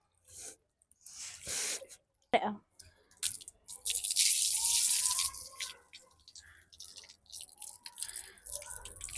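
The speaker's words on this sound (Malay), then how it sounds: "Kita akan menapiskan air" Water being drained off freshly washed rice, heard as splashing and pouring bursts with trickles in between, close by, with people talking intermittently.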